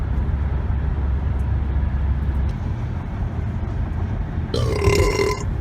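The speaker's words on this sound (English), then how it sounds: "Oh, I know I have a burp." A loud, drawn-out burp after drinking Coke rises above the steady rumble of a moving car near the end, with no talking.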